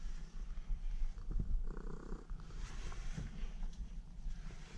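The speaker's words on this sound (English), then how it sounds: "Oh, there's a cat again." A cat purrs close by in a quiet indoor space, a soft, steady low rumble that runs the whole time with slight swells, with no voices over it.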